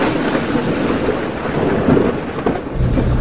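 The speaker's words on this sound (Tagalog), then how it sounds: "ang kinakatakutan ng lahat ng riders. Ulan." Heavy rain falls with rumbling thunder during a motorcycle trip through Antique province, a steady close wash of downpour with deeper rolls swelling near the end, no voices.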